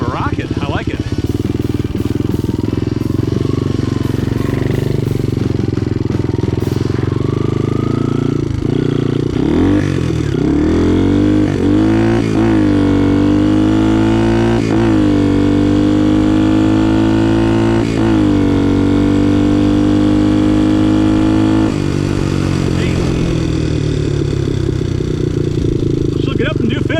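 A vintage Honda XL trail bike with a swapped engine and a temporary Chinese carburetor idles and revs up loudly and close, its engine note rising and falling in repeated throttle blips.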